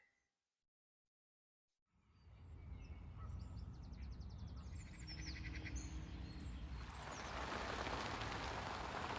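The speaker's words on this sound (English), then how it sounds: "It's raining. We haven't seen any of that this winter." Heavy rain comes down at a carp fishing lake, a dense steady hiss that starts after a near-silent moment and builds louder, with bird calls chirping through it.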